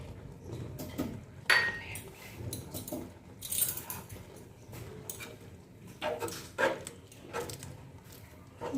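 A spoon stirs pineapple chutney with cashews and raisins in a pan, giving intermittent metallic scrapes and clinks in irregular bursts, close and moderately loud.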